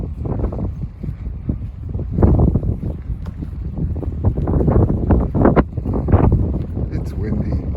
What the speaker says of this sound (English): It's windy. It's a little cold.